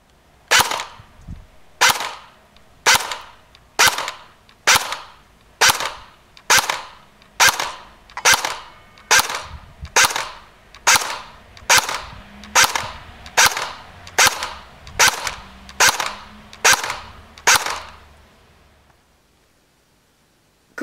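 Airsoft AK105 replica firing 0.20 g BBs through a chronograph in single shots, about twenty sharp cracks spaced roughly a second apart, loud and close, then silence.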